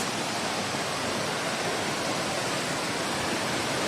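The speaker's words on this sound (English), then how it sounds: "You can hear the sound of waterfalls." Sitakund Falls waterfall near Simlipal forest, a steady, broad rushing roar of falling water, constant and unbroken, with no voices.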